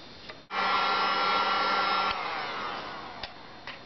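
A hair dryer blows on a paper page, a loud steady whir that switches on abruptly, runs for about a second and a half, then eases to a lower setting before a few small clicks.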